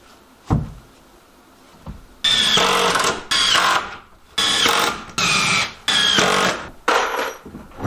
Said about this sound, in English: I'm screwing this one in because I can't get my nail gun in there good.